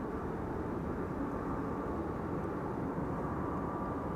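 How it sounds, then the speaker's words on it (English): Turkish Airlines Airbus A330 wide-body arriving at Amsterdam Schiphol, heard as a steady, continuous low roar of jet engines from a distance with no voices. "Turkish A330 is coming in."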